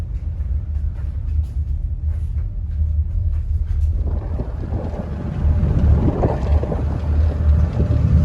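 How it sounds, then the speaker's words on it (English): A steady low ferry engine rumble with wind buffeting the microphone on the crossing from Cedar Island to Ocracoke over Pamlico Sound, the roar and whooshing growing louder midway through, with no talking. "this is the ferry from Cedar Island to Okracoke"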